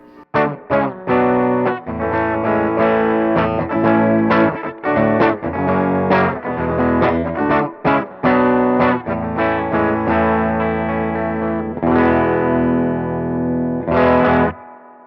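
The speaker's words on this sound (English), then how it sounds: "kicking things off with the Squier Classic Vibe 60s Jazzmaster. Let's hear it clean" Squier Classic Vibe 60s Jazzmaster electric guitar on the bridge single-coil pickup, played clean in a run of plucked chords and notes with a steady mains hum underneath, close and fairly loud.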